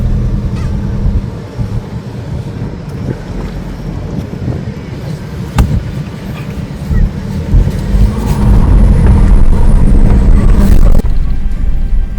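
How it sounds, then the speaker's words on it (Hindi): A Force Gurkha SUV engine rumbles steadily while reversing on a steep mountain road in Uttarakhand, loud and continuous with wind buffeting the microphone and a few sharp knocks. "हमें गाड़ी एक और बैक लेनी ही पड़ेगी।"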